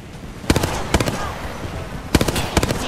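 Rapid gunfire crackles in a ranked online shooter match, coming in two pairs of short, sharp bursts separated by a quieter stretch of background game sound.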